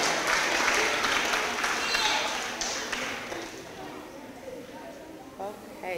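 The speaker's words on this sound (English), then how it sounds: "So let's give them a big round of applause for being such good role models at Toni Morrison" Audience applause at an elementary school academic awards assembly, honoring student award winners; dense clapping fills the first half, then thins and fades as voices and movement take over.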